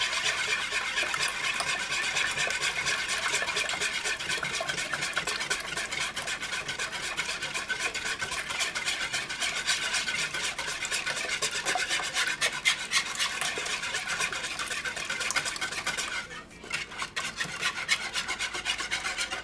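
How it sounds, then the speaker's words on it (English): Continuous brisk whisking of eggs in a bowl for a tater tot breakfast casserole, a steady scraping, rasping churn that runs close and loud throughout with only a brief pause near the end, no talking. "Get them all whisked up before we add in our cheeses and everything else."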